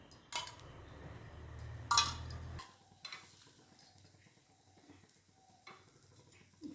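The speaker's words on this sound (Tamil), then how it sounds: "நல்லெண்ணெய் ஊற்றணும்" Sesame oil is poured onto a mudakathan dosa on a hot pan, setting off a close, crackling sizzle with a bright scrape. The sizzle cuts off abruptly, leaving quieter scattered pan clinks.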